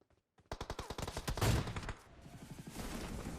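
Shotgun fire in the video game PUBG: a rapid burst of sharp, loud shots in quick succession, followed by a fainter scatter of further gunfire and rumbling effects.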